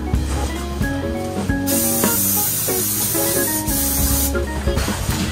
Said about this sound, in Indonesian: Aku semprot dulu.